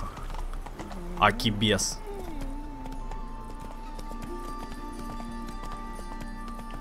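A horse's hooves clip-clop at a steady pace through a town in The Witcher 3: Wild Hunt, with a brief whinny near the start and someone talking over the game sounds.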